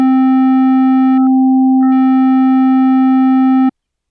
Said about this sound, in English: I generally like to start with a little bit of a rounded sine wave